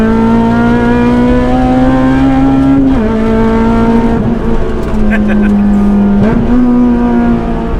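Honda Integra Type R DC5 engine revving hard inside the car, a loud, close, high-pitched engine howl climbing through the gears with short dips at shifts, with people talking faintly beneath it.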